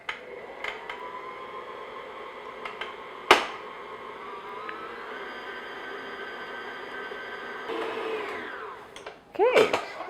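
An electric mixer runs at low speed through chocolate peanut cookie batter with a steady motor whine and a few clanks against the bowl, ending in a rising, louder burst.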